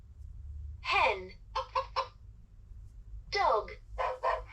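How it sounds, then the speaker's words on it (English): Electronic hen clucking from a talking toy picture book: short bursts of clucks come in two groups, each following a brief recorded voice, over a low steady hum. "Hen."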